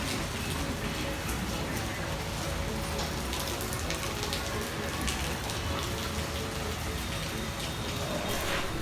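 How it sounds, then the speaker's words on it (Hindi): Heavy rain pours outdoors on an upper floor of a home, producing a loud, continuous, dense hiss of drops striking surfaces nearby. "देखिए कितनी तेज से बारिश हो रही है।"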